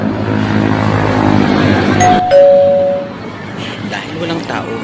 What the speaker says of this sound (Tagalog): Subukan po natin mag-doorbell.